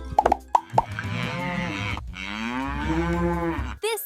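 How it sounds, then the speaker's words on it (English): A cow on a farm gives a long, loud moo that rises and then falls, coming right after a few short plopping knocks. A brief bleat-like call cuts in at the very end. "This is a cow."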